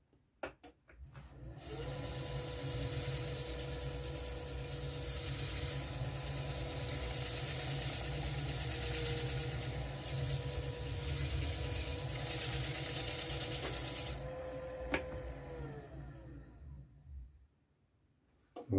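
A wood lathe spins a finished bowl turned from an old piece of elm, a steady whirring hum with airy hiss that starts abruptly, runs evenly for about fifteen seconds and stops, fairly quiet, with no talk.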